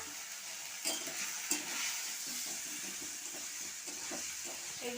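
Masala with homemade cumin and coriander powder fries in a pan, with a soft, continuous hiss and sizzle and occasional stirring scrapes, fairly faint throughout, with no voices.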